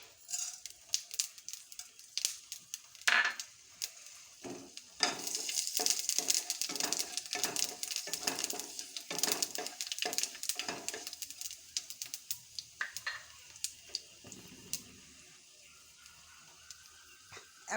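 Dried red chillies and panch phoron sizzle and crackle in hot oil, with sharp irregular pops and spits running through a continuous frying hiss, close and fairly loud, and occasional speech in between.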